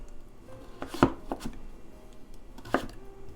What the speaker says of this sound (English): Now slice it into thick pieces